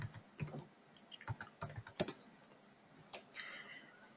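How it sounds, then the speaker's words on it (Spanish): Password being typed on a computer keyboard in a quiet room: a short, uneven run of sharp key clicks with a few pauses, fairly close and alone. "Vamos a poner nuestra contraseña."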